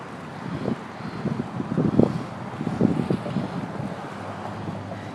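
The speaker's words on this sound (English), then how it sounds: "It's crazy windy today." Strong gusty wind buffets the microphone during a bike ride beside Navy Pier, rising into uneven low rumbling bursts, with no voices heard.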